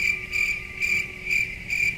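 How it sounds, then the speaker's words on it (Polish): Crickets chirp in steady pulsed bursts, about five evenly spaced trills over a low background hum, fairly close and alone. "Czemu tu same świersze"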